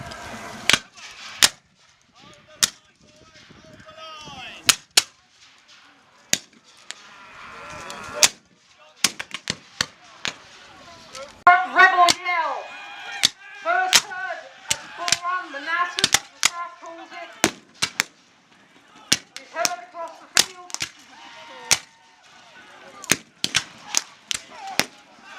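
Civil War reenactment battle with scattered musket and rifle shots cracking near and far, irregular single reports and short clusters, over distant shouting voices.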